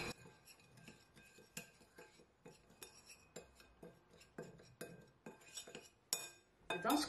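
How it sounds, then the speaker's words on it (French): Spices are mixed in a bowl for roasted chicken, with light repeated clinks and taps of a utensil against the dish, soft and close in an irregular rhythm, without talk. "We're going to mix all the spices together."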